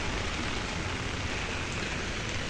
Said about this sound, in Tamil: சரியா மழை பெய்து கொண்டிருக்கான்.